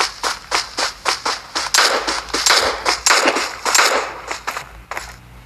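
A rapid series of sharp gunshots in bursts, clipped and punchy like video game weapon fire, with short pauses between volleys and no talking.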